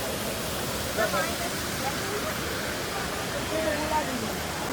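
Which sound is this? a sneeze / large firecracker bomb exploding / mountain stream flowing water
mountain stream flowing water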